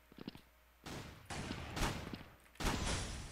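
Bursts of rapid gunfire in heavy volleys, loud and close, separated by brief pauses, with some faint clicks before the first burst.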